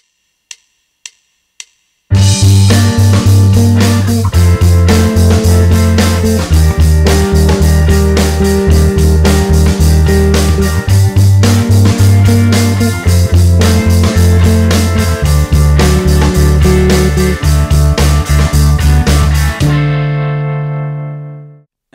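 Bass guitar plays the pre-chorus of a song over a Band-in-a-Box backing track with chords, after four count-in clicks, a loud steady pulsing groove that runs continuously, then rings out and fades at the end.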